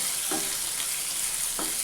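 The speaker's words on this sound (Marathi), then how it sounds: "आता आपण हा बारीक चिरलेला कांदा टाकून घेऊ. आपल्याला कांद्याला आता चांगलं भाजून घ्यायचं." Finely chopped onion fries in a pan for dhaba-style matar aloo, giving a steady close sizzle with a few brief stirring scrapes.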